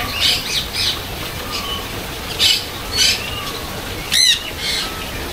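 A small bird calls close by in a sequence of sharp, high squawks and chirps, with a brief burst of flapping wings, all over a steady outdoor hiss on a hot day.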